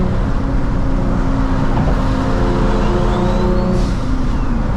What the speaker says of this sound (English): The headers really changed the sound of the VQ.